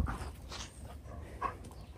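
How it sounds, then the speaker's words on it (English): A Weimaraner whimpers in short, soft whines and breathy sounds, faint and close, with no one talking. "These type of dogs, Weimaraners, they need a lot of exercise because they have this energy that they need to burn"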